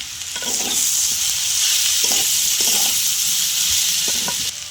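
Tomato with turmeric, chilli powder, coriander powder and roasted spice mix fries in a pan for cauliflower momo filling, a steady sizzle broken by several clattering stirs of a spatula, close and loud.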